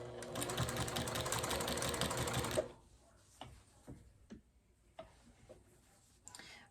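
A sewing machine stitches quilt binding in one steady, fast-ticking run for a few seconds, then stops, leaving quiet with scattered light handling knocks.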